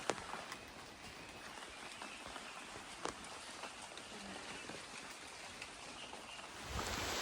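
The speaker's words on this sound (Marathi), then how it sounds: "मला वाटतं हा पाऊस कंटिन्यू चालू राहिला असं वाटतं" Steady rain falling outdoors in the Konkan countryside, a constant soft hiss with scattered drip taps, faint and even throughout without speech.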